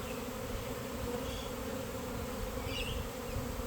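A swarm of honey bees lifts off from hive boxes, producing a dense, continuous droning buzz that hangs close and loud throughout with no talking.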